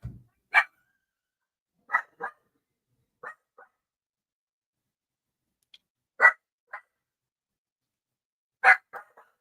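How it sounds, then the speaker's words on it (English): A pet dog barking in a quiet room, sharp single and double barks spaced out at irregular intervals, fairly close and clear against silence. "the dog's losing his tiny, tiny mind"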